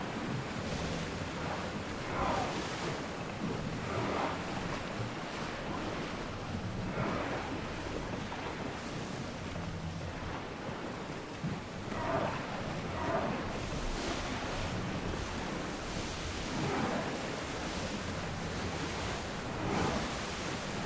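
Ocean waves wash and surge around a sailing ship at sea in Assassin's Creed Odyssey, a steady broadband roar with periodic swells and wind noise, continuous and fairly loud throughout with no talk.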